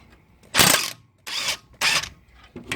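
A spanner turning a bolt on the front strut of a 1997 Mitsubishi RVR, three short bursts of close, crisp metallic ratcheting clicks separated by brief pauses, with no talking.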